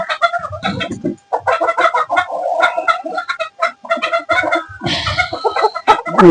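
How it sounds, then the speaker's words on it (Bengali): European Silkie chickens on a fancy poultry farm: a rapid, irregular run of close, loud clucks and squawks overlapping one another, with a sharper cry near the end. "এটা হচ্ছে ইউরোপিয়ান সিল্কি"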